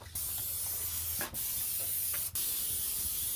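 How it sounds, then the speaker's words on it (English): Pam cooking spray hissing onto smoker grates as they are seasoned, two short close bursts broken by brief pauses over a steady background hiss. "I'm gonna spray with some Pam."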